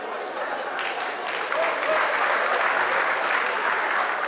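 Crowd at an Abuja stand-up comedy show clapping for the comedian, continuous dense applause that swells slightly partway through.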